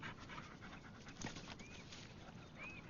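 A dog panting close by, a steady quick rhythm of breathy huffs over faint background noise.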